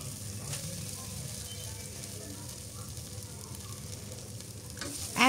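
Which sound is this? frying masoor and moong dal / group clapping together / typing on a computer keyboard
frying masoor and moong dal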